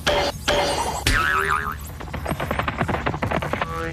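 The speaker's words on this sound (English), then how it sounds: "The arrow hit so hard that the suction cup forced all the air out from underneath it." A toy suction cup arrow from a science demonstration bow strikes a target with a sharp springy boing that wobbles and rings, followed by a run of rapid taps and clatter, loud and close with no talking.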